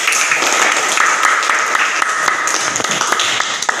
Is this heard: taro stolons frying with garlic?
no